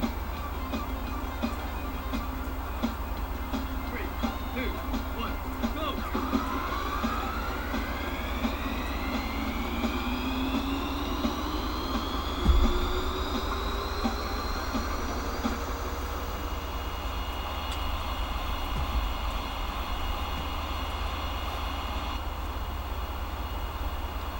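Jet aircraft engines roar steadily from the retro video game Afterburner, with a sweeping whoosh rising in pitch partway through. The sound plays alone over a constant low hum, with no talk.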